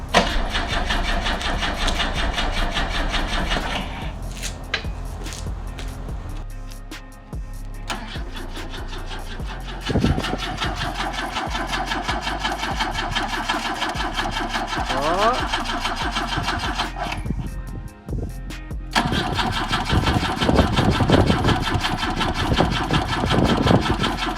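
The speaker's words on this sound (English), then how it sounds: "I think we're almost ready to crank. Did you try starting it?" A BMW M10 engine revived after a year of sitting cranks repeatedly, with a steady whirring starter that pauses and restarts, then sputters and barely catches with uneven rough firing near the end; people talk throughout.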